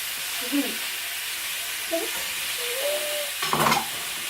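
Sausages browning in a frying pan with a soft, steady sizzle, broken by a few light scrapes and stirring clatters and a brief louder clank near the end; fairly quiet and close, with no talking.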